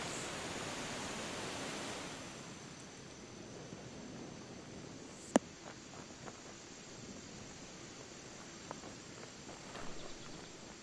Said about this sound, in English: That water is really loud behind me.